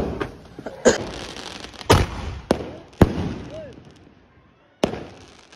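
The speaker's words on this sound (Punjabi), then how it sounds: "ਆਹ ਹੁੰਦਾ ਅਸਲੀ ਪਟਾਕਾ" Colorful thunder single-shot firecrackers set off on a rooftop during Diwali in Punjab give several sharp, loud bangs at irregular intervals, with short rumbling tails, a faint whistle and quiet voices between blasts.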